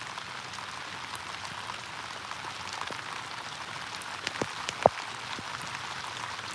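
Big raindrops fall onto water near a kayak, a steady patter with scattered louder individual plops and splashes, close by and without talking.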